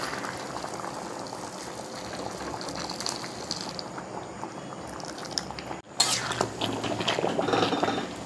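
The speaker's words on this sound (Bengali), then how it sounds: "এবার গরম জল দিয়ে দেবো।" Hot water poured into a wok of simmering country chicken curry: a steady bubbling sizzle, then a sudden loud gush near the end as the water goes in, close and alone.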